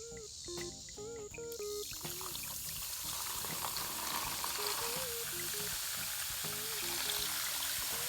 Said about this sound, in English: So it's gonna go in here and we're gonna pour some acid on it.